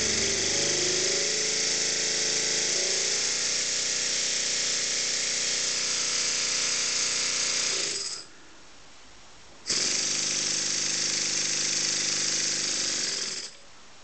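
A Stuart Turner V Twin model steam engine, refurbished and running in on compressed air at about 80 PSI, chuffs in a fast, steady, loud pulsing beat. It stops briefly, then restarts with the same rhythm.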